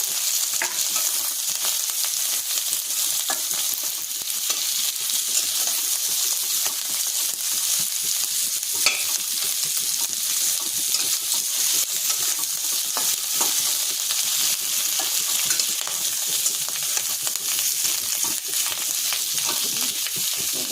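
Capsicum and potato with garlic frying in a pan and being stirred, a constant close hiss of sizzling with scattered scraping and soft knocks of the utensil.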